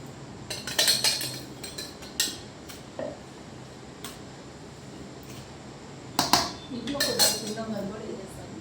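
Roasted powders for sunnundalu are mixed in a bowl, with scattered clinks and light scraping taps of utensil on dishware close by in irregular bursts, while a person talks quietly in between.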